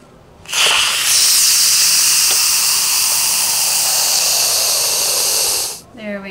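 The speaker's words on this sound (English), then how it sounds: "Now I'm going to release whatever pressure is left by turning this here." A Cosori pressure cooker venting its remaining pressure after cooking steel cut oats: a loud, close, steady hiss of escaping steam starts abruptly, holds for about five seconds, then cuts off.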